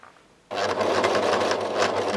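A sewing machine stitches along a tea towel tote bag with white thread, starting abruptly after a brief quiet moment and then running in a steady, close, continuous whir to the end.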